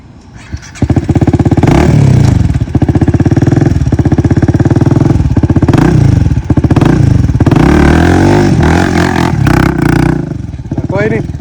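A stunt motorcycle engine runs loud and close throughout practice, its throttle blipped and revved in repeated surges with a rattling clatter, while a voice talks over it.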